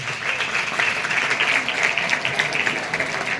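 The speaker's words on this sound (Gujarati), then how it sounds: "તો ભાવિન સર માટે એક બધા તાળીઓ પડો" Applause for a teacher at a village secondary school gathering, a dense, steady clapping from a crowd lasting a few seconds.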